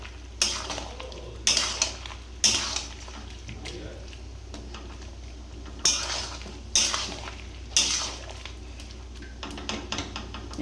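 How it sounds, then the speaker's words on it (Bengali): Malabar spinach being stirred and sautéed with spices in a pan: a low sizzle runs throughout, broken by sharp, repeated scrapes and clanks of a utensil against metal, with a voice talking over it. "এবার আমি এটাকে ভালো করে পুঁই শাকটাকে কষিয়ে নিচ্ছি।"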